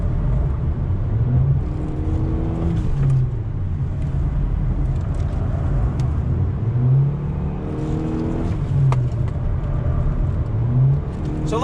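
A 2020 Honda Civic LX coupe accelerates hard on throttle, its engine note rising in steady sweeps with simulated gear changes breaking the climb, loud and close throughout with no talk.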